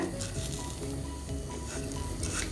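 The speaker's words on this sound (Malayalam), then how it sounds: "എല്ലാ അരിയും വറുത്ത് വരുന്ന വരെ നമുക്കൊന്ന് ഫ്രൈ ചെയ്തെടുക്കാം" Rice roasts dry in an iron kadai over a medium flame, a soft continuous sizzle and crackle with occasional scraping from stirring, fairly quiet and close.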